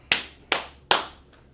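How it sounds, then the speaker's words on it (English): Audience clapping at a spoken lesson on the eighteen nations, heard as three sharp, loud bursts in steady rhythm about half a second apart, followed by a faint fourth. "So clap it up for D'Angelo."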